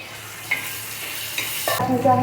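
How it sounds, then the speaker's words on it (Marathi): Hot oil crackles and sizzles as cumin, mustard seeds and curry leaves drop in, with a couple of sharp pops early and a louder burst of frying near the end. "आता आपण पहिलं जिरी मोहरी आणि कढीपत्ता सगळं टाकणार आहे"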